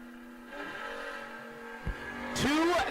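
A drag racing car at a no box drag race, its engine held on the foot brake against the converter in a steady droning rumble, with a brief thump and a rising engine sweep at the end, heard from a distance.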